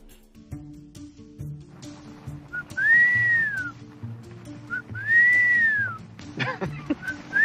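A person in Washington whistles twice in long arching tones, imitating an elk bugle, with soft background murmur and faint talk between the calls.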